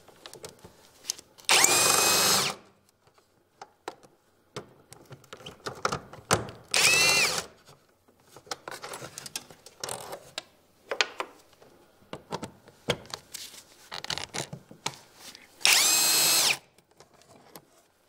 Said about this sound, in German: Die beiden Schrauben mit einem T30 Torx rausschrauben.